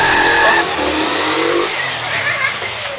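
A Honda Bis motorcycle revs hard close by, its loud, strained engine roar continuous for a few seconds and sweeping upward, with broadband noise and wind on top.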